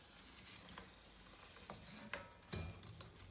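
Puris deep frying one by one in hot oil at a street food stall, a soft continuous sizzle with faint crackles and small pops, a couple of louder bubbling bursts near the end, no talk.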